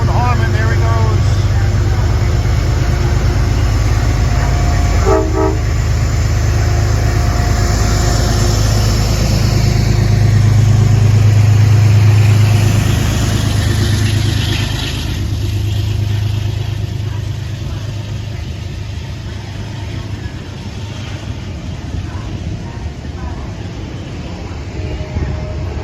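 Metro-North train 8828 pulls out of Croton-Harmon station with a loud, close, low engine drone that swells midway and then gradually eases as it moves off, with people talking nearby.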